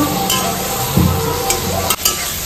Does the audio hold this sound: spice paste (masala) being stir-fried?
yes